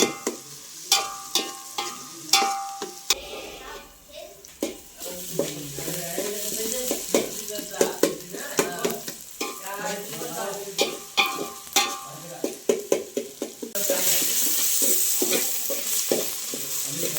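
In a village kitchen, onions fry in oil in a pan with a steady sizzle. Repeated sharp scrapes and clinks of a utensil stirring punctuate it, and the frying hiss grows louder toward the end. No speech.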